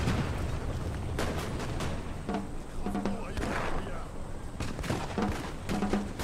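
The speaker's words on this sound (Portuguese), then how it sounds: "Ai, canhão tá acertando os caras aqui." Repeated booming cannon shots in the video game Napoleon: Total War punctuate a busy battle soundscape, with several sharp blasts spaced a second or two apart amid continuous background noise.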